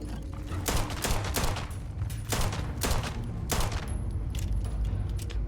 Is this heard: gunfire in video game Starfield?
yes